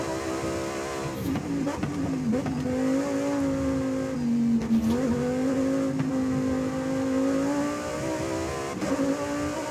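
A Lamborghini Huracan STO in Forza Horizon 5 howls close and loud, its V10-style engine note holding high and steady with brief dips and rises as it shifts and corners.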